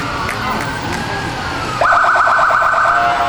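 Leavenworth Fire Department Engine Number 3 sounds its siren loudly and close by during a 2008 Veterans Day parade in Leavenworth County, a steady wail that jumps to a pulsing, rapid yelp partway through.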